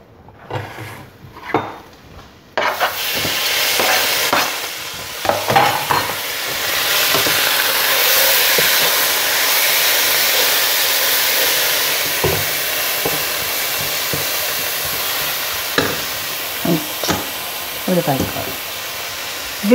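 Chopped cicoria stirred in a pan over very low heat, a steady soft sizzle with repeated scraping strokes running continuously after a brief quiet start, with no one talking.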